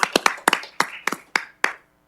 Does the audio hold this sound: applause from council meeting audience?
yes